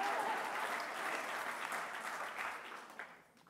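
Steady applause from a film festival tribute audience fills the hall, a dense even patter of many hands that tapers off toward the end.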